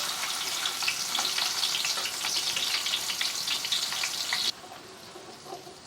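Onions sizzling in hot oil with golden-browned cumin seeds, a bright crackling fry that stays loud and steady, then drops sharply to a quieter sizzle near the end.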